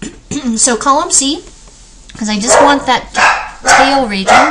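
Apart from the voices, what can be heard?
dogs barking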